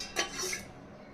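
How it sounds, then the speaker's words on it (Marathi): A pressure cooker set down on a gas stove gives a single close metallic clank with a brief ringing rattle, then fades to quiet. "गॅसवरती कुकर ठेवून घेऊया"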